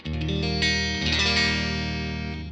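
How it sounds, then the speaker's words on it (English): A Stratocaster electric guitar with its volume rolled back halfway strums bright, ringing chords up close, the notes sustaining with a clear, chiming top end and slowly decaying. "I take my volume halfway back,"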